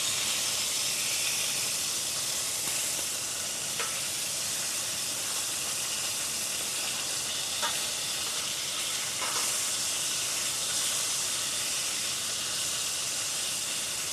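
Meat sears in a hot pan with a steady, loud broadband sizzle and hiss that holds for the whole stretch, with a few brief crackles poking through.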